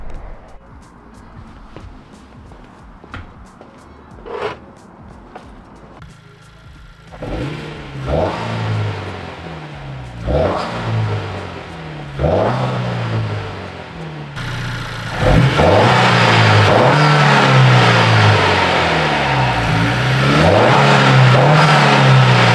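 A Honda Civic Si engine fitted with a PRL Stage 1 intake revs repeatedly from idle, each rise climbing and falling back, then holds at a loud sustained high-rpm roar toward the end, close and with no speech.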